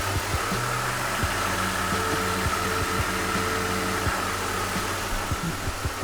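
A BMW E46 engine idles steadily right after reassembly, a continuous close mid-range hum with a faint vibration and a few small clicks running throughout, with no talk over it.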